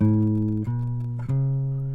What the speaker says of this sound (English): If that were a major scale, it would sound something like this.